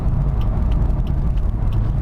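Steady engine drone and road rumble from inside a rear-wheel-drive manual car cruising gently onto a freeway, a continuous low hum with no other sounds.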